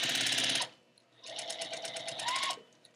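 A sewing machine stitching quilt block rows together, running in two loud close bursts of rapid rhythmic needle stitching separated by a short pause.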